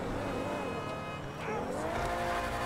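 A car in GTA 5 doing a burnout, a loud engine roar with a rising squeal of spinning tires, sustained and close throughout.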